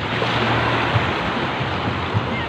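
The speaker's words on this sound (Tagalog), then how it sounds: "Ayan na. Alon na." Continuous roar of surf with ocean waves washing in on a beach at Bagac, Bataan, heavy and close, with wind buffeting the microphone.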